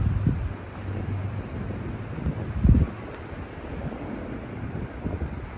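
Strong, cold wind in Newport buffets the microphone in uneven gusts, with a louder rumbling blast near the middle; no one speaks.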